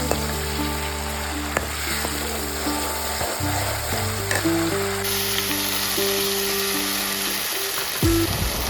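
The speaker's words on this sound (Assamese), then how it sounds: "সৰিয়হ বটাখিনি মই দি এনেকৈ অলপ ভাজি লৈছোঁ।" Ground mustard paste fries in hot oil in a pan for an Assamese fish dish, a steady close sizzle running throughout with faint stirring scrapes, and no voices.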